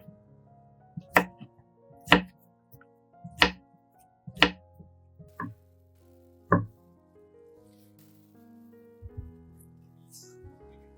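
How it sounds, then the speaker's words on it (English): A knife cuts a pineapple slice into bite-sized pieces on a cutting board, six sharp, evenly spaced chops ringing close and clear, then faint shuffling and soft knocks as the pieces settle, with no talk. "Cut the pineapple into bite-sized pieces."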